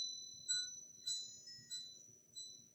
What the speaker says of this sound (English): It's just a pretty little wind chime that you can sit inside your house instead of outside.